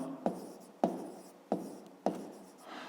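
Four crisp pen strokes scratch numbers into a notebook at an even pace, each a short close scrape that trails off, with no voices.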